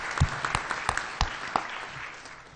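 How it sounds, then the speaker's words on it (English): Attendees at a spring town meeting applauding, sparse and scattered clapping with a few sharp, distinct claps standing out early, thinning out toward the end. "So give yourselves a round of applause."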